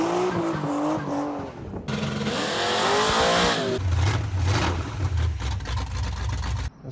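An LS-swapped Chevrolet C10 pickup truck driving, engine revving and rising in pitch, then a lower steady rumble with rough road and wind noise, close and loud.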